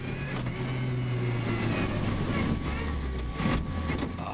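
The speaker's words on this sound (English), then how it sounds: "that car does not sound healthy" Ford rally car at Rally Canterbury in New Zealand, its engine running rough and uneven, a loud sustained drone mixed with wind noise and a couple of sharp bursts near the end.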